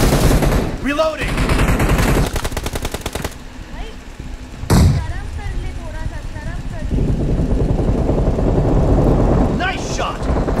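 Gunfire in the BGMI battle royale game, rapid automatic bursts and single sharp shots, some close and loud, others more distant, with a voice speaking over the fighting.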